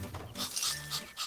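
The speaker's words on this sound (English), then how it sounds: "That was the dog." Dog panting in the VR game The Curious Tale of the Stolen Pets, a short run of quick, breathy huffs close up and fairly quiet, with no talk over it.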